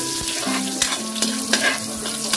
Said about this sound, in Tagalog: Gisa na tayo agad.